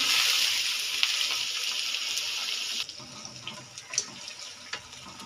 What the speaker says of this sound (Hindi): अब हम इसमें गोभी डालते हैं फ्राई करने के लिए